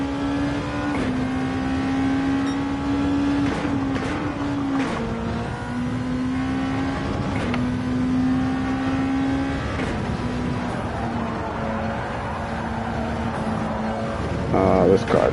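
A race car engine in Gran Turismo 7 during a Nations Cup online qualifier, holding a steady droning tone that shifts in pitch as the driver works through gears, with a voice occasionally over it.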